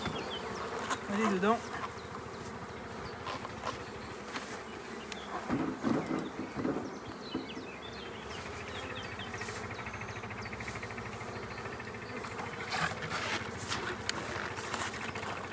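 Honey bees buzz steadily around a hive at an apiary during a transfer from a nucleus box into a full hive, a dense insect drone throughout with brief French speech nearby.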